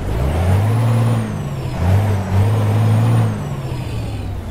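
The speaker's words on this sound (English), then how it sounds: "I think this is probably the best position to really hear that motor." A Peterbilt 388 wrecker truck's engine in American Truck Simulator rumbles with a deep, steady idle that swells into a few louder revs and then settles back, close and alone without talk.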